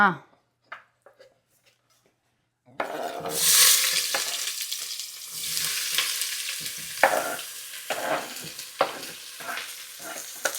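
Onions and bay leaves hit hot oil in a home kitchen after a few quiet seconds, bursting into a loud, steady sizzle with spoon scrapes and clinks against the pan.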